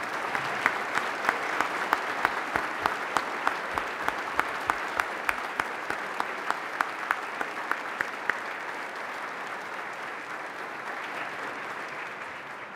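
Sustained applause fills the North Carolina House chamber as legislators stand to honor their family members, dense clapping with a few sharp louder claps near the start, steady throughout with no talk.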